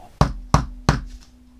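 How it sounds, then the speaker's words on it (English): Three loud, sharp knocks on a door in quick succession, evenly spaced and close, each ringing briefly before the next. "The long silence that followed was broken by a loud knock at the door."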